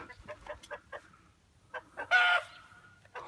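Chickens clucking around chicken feed scattered as bait at a door, with a run of short clucks and one louder squawking burst near the end.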